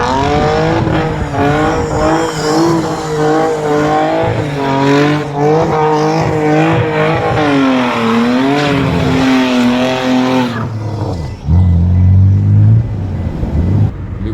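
Modified BMW E46 328 drift car with a welded differential revving hard through continuous donuts, engine note rising and falling in rhythmic sweeps, loud and close, then dropping to a rough lower idle near the end.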